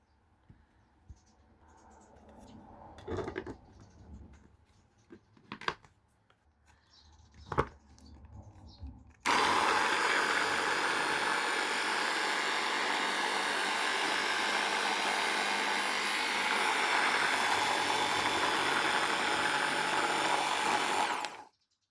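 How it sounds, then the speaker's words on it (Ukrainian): A food chopper whirs loudly and steadily for about twelve seconds as it blends mint, spinach and sugar to a smooth paste, after a few quieter knocks and rustles at the start. "В подрібнювач до м'яти і шпинату я додаю цукор і перебивають до однорідної консистенції."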